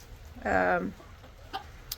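Near a coop area, a chicken lets out one short, loud cluck, followed by a couple of faint clicks against quiet background noise.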